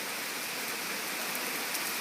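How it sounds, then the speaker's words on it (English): Heavy rain pours steadily during a storm with strong winds, a dense continuous hiss of drops on surfaces that stays loud and even throughout, with no voices. "Just mainly heavy rain and strong winds."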